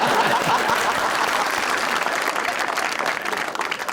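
Talk-show studio audience applause, dense and even, loudest at first and thinning slightly toward the end.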